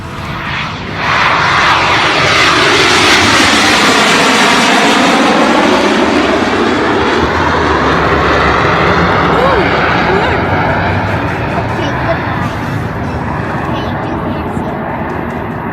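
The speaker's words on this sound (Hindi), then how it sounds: "कनाडा में कोरोना वीरों का हौसला बढ़ाने को लेकर हुए एयर शो में एक वायुसेना का विमान क्रैश हो गया।" A Canadian Air Force jet roars loudly overhead during an air show, its engine noise swelling and sweeping in pitch as it passes, with a voice talking over it.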